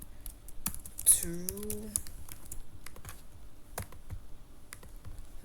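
Scattered keystrokes on a computer keyboard while typing JavaScript code, soft irregular clicks with a brief spoken word partway through.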